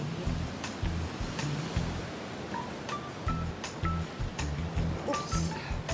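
Steady rush of surf with splashing water up close, broadband and continuous, with wind buffeting the microphone throughout.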